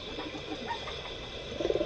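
Pigeons coo softly in the background, with a short burst of clearer cooing notes near the end, fairly close and over a low, steady ambient hum.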